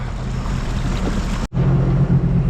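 A 2021 Sea-Doo RXT-X jet ski fitted with a Rotax 300 engine runs on a lake, giving a loud steady roar with water rush that cuts out for a split second and then resumes.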